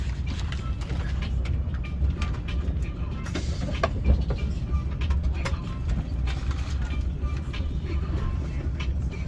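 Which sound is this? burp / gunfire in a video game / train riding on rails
train riding on rails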